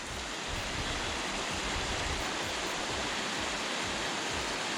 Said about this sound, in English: here's a third waterfall